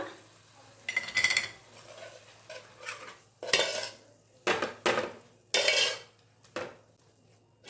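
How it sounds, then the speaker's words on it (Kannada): A spoon scrapes and clinks against a pan while spice powders are stirred for a drumstick and potato curry, irregular bursts of scraping separated by short pauses, close and moderately loud over a low hum. "ಮಸಾಲೆ ಸ್ಮೆಲ್ಲೆಲ್ಲ ಹೋಗೋ ತನಕ ಒಂದು ಸ್ವಲ್ಪ ಈ ರೀತಿ ಮಿಕ್ಸ್ ಮಾಡ್ಕೊತಿರೋಣ"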